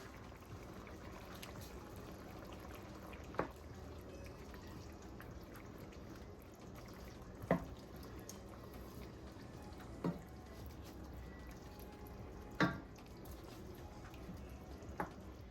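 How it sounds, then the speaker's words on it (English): Shrimp go into a simmering coconut curry sauce with carrots and scotch bonnet pepper, a quiet steady bubbling and sizzle broken by a few soft clinks and splashes. "now I'm gonna start to go in with the shrimp"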